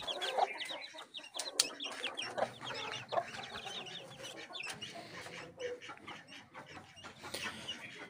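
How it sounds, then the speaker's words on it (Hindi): A mother hen and her newly hatched chicks cluck and peep steadily together close by, with soft overlapping calls and no talking. "चूजे आ गए जी हमारे, आ जाओ मैडम बाहर आ जाओ।"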